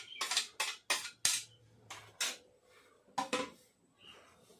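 Chopped onion, tomato and chilli are mixed into flour in a bowl for egg paratha, making a series of close clinking, scraping strokes of a utensil against the dish in uneven bursts with no talking.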